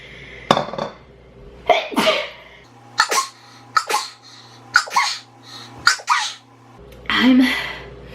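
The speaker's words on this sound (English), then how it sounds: "Oh God, I gotta sneeze again." A woman sneezes and coughs repeatedly, producing sharp, close bursts separated by short pauses and audible breaths, ending in a longer throaty exhale.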